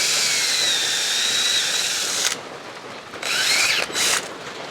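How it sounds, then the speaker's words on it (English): A power drill bores a hole into the bottom of a used oil filter while servicing a John Deere LA125 lawn tractor. The whine runs loud and close for about two seconds, stops, then returns in two shorter bursts. "I usually drill a hole in them at the very bottom"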